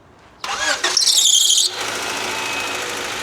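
A 1991 Honda Accord engine cranks over at startup, giving a loud burst of mechanical whirring and squealing for about a second before it settles into a steady, quieter running hum.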